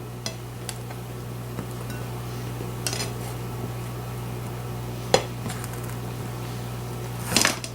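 Leftover sausage and potatoes are spooned into a breakfast bowl: sparse clinks and taps of a spoon against the dish over a steady background hum, with a louder scrape or clatter near the end.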